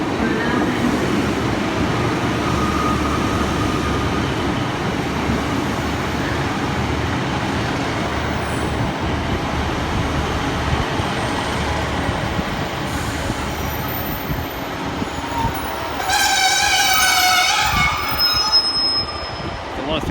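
Class 150 diesel multiple units at Exeter St David's station, with steady loud rail rumble throughout and high wheel squeal rising near the end as a train moves along the platform.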